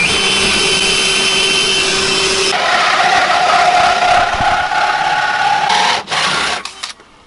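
A hole saw grinds through the metal floor of a drift car, a harsh continuous whine that shifts pitch midway, then falters and stops near the end, close and loud.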